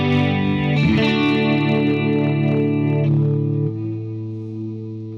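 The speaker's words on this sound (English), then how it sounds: "It'll increase the level of chorus or increase the level of reverb, and you can actually hear that now" Electric guitar through a Fender Mustang Micro headphone amp with chorus and reverb, a few ringing strummed chords shimmering and sustaining with a wavering chorused tone, loud and alone, decaying into a softer held chord.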